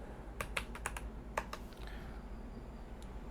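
A computer keyboard is typed on in a quick cluster of crisp clicks, a few more keystrokes following after a brief pause, close and fairly quiet over a low background hum.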